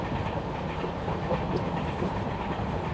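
A passenger train on the Bangalore to Tirupati route rolls steadily along the rails, with a continuous rumble and rhythmic clatter of the wheels heard from inside the carriage, with no talk.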